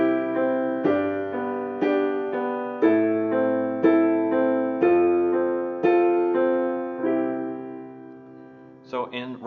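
Piano plays a rock ballad accompaniment built on steady eighth notes, chords split into bass and upper parts, repeating each beat in a calm, even pulse, close and clear, ending with a brief noise.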